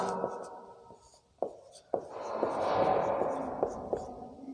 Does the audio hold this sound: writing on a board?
yes